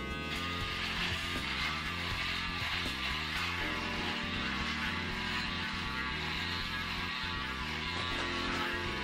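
A Braun 3040s wet and dry electric shaver runs in a steady close buzzing hum that holds even throughout, with slight texture changes as it moves over stubble.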